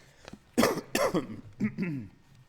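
A few sharp, harsh coughs close to the microphone during an internet radio call-in show, coming in quick bursts with short pauses between them.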